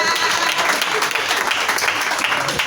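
A church congregation at a Sunday thanksgiving service claps loudly and continuously to acclaim Jesus, with dense, sustained applause filling the room for a few seconds.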